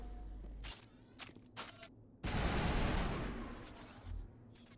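Gunfire from a video game shooter: a few scattered bursts early, then a sustained loud barrage of rapid shots filling the latter half, close and dense, with no talking over it.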